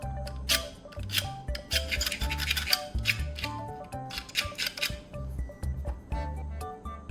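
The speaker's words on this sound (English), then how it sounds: "Now I'm going to scrape off the copper coating from the ends of the wires." Ends of copper-coated aluminum wires being scraped by hand: close, rasping scrape strokes in irregular bursts, mixed with light metallic clinks and scratchy rubbing.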